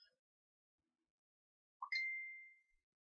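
A phone gives a single clear notification ding that rings out and fades over about a second, in an otherwise quiet indoor room.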